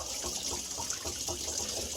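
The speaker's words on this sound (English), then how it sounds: "So now I'm actually draining the tank properly. This is the hot water out." Hot water drains out of a household water heater tank in a steady, rushing gush that keeps going without break, close by and fairly loud.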